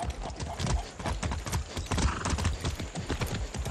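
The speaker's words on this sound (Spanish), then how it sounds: "¡Qué buen caballo!" Horse hooves clip-clopping in the Far Cry 6 video game, a quick, steady run of close, loud hoofbeats with no talk over them.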